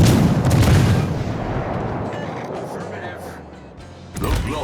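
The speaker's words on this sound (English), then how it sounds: "the Sevastopol's sitting there shooting us still" Heavy naval gunfire from the Sevastopol battleship in World of Warships: Legends, a loud booming salvo at the start that rolls into a long rumbling decay, with another blast near the end.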